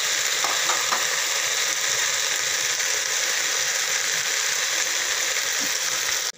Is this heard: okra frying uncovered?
yes